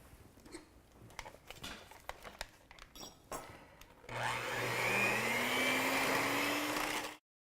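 An electric mixer beats cream and sugar into whipped cream, starting with scattered clinks and taps in the bowl before a steady, loud whirring drone that runs for several seconds and stops abruptly.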